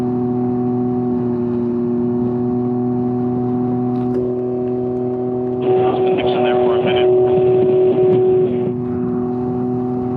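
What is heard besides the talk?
motorcycle exhaust revving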